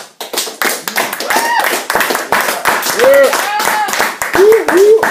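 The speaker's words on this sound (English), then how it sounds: "let's give him a round of applause" An audience claps to welcome a student presenter, Jackson, before a talk on apologizing; dense, close clapping runs throughout with voices calling and cheering over it.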